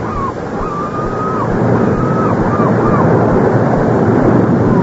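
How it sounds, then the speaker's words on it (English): Ocean waves wash in a steady, loud roar of surf in a radio mystery drama, with a thin tonal line drifting faintly above the rush. "they hear the ocean."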